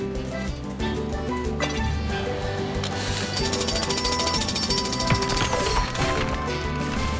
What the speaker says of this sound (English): Use Rubble's drill to clear the rock away.